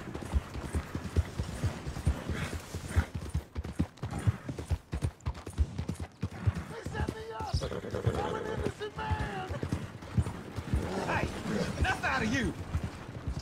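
A ridden horse's hooves clip-clop in a quick, uneven rhythm on the ground, close by. The rider talks over the steps.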